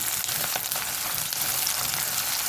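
Green peanuts sauté in a pan for a millet and green gram khichdi, giving an even, continuous close sizzle with faint stirring beneath it.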